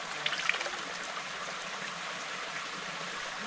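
Water in a stream in the Philippines flows and trickles steadily where laundry is being washed, a soft continuous rushing with a few faint splashes early on.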